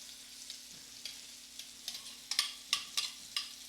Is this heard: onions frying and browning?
yes